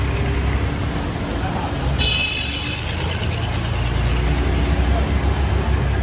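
A motorbike rides along a busy road in Pakistan, carrying riders out to dinner during Ramzan, with a steady engine and traffic roar that stays loud and continuous throughout.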